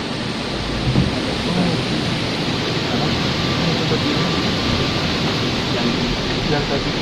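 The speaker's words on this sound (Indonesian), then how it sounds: "di sini tuh lagi hujan deras, angin pun besar" Heavy rain driven by strong wind roars as a dense, continuous wash of noise, with a low rumble that may be thunder beneath it, loud and unbroken throughout, outdoors near a tree at night.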